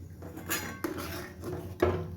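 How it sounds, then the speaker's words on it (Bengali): A spoon stirs phirni, a rice pudding, in a pot, giving a few light clinks and scrapes against the metal over a soft bubbling background, with no voices. "ভালো করে আমি এটাকে নেড়ে দিলাম"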